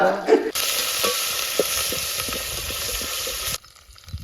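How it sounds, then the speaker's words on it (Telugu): Ginger garlic paste hits hot oil with green chillies and curry leaves, bursting into a loud, steady sizzle with stirring scrapes for about three seconds before abruptly dropping away. "ఇప్పుడు అల్లం వెల్లిగడ్డ పేస్ట్ వేసుకుందాం దోశలో"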